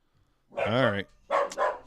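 A dachshund barks indoors, two sharp barks close by with a short pause between them and quiet all around.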